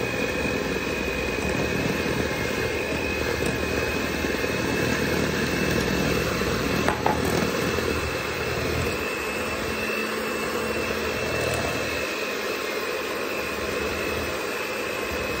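Electric mixer whirring through oatmeal raisin cookie dough, a constant loud motor drone with little change over its length, close up and alone without speech.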